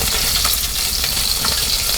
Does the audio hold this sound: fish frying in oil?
yes